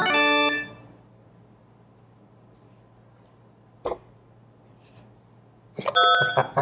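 A loud, harsh quiz show buzzer sounds briefly at the start and again near the end, with a short click and near silence between.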